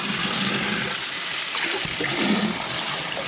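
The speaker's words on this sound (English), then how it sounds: "Now this is just straight cold water that I'm draining the tank with." Cold water rushing and splashing steadily as a 125-gallon koi tank is drained, a continuous close gushing flow with no voices.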